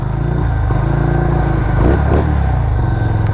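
SSR Buccaneer 250 V-twin cafe motorcycle idling loud and close with a throaty, lumpy rumble, then a brief rev swells and drops back to idle.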